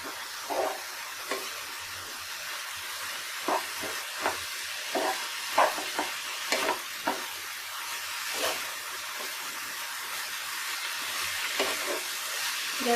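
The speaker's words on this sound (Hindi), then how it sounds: "लाल मिर्च पाउडर भी डालनी है। किसी को तीखा लगता है, किसी को नहीं लगता है। थोड़ा इसको मिक्स कर ले दोस्तों।" Masala with red chili powder is stirred in a kadai while making pizza, a soft steady hiss from the pan under a run of light scraping taps from the spoon.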